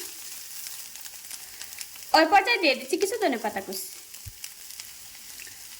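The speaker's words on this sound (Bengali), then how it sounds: "এভাবে করে নেড়ে সেড়ে দুই তিন মিনিট খুব ভালোভাবে ভেজে নেব" Egg filling for a stuffed paratha fries in a pan with a soft, steady sizzle throughout, while someone speaks over it for a couple of seconds in the middle.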